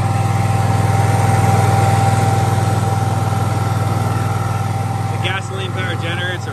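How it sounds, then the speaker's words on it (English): A 5.5 kilowatt generator on a 2012 Ford F-550 diesel fiber splicing bucket truck drones steadily and loudly nearby, a constant engine hum with a brief voice near the end. "Here's a generator."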